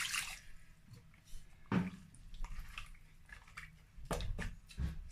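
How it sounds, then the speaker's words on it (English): Water is poured into a pot of beef seasoned with black pepper, being cooked for fried beef in tomato sauce. There are soft splashes and drips, with a few brief louder gushes over quiet kitchen background. "I'm going to add water."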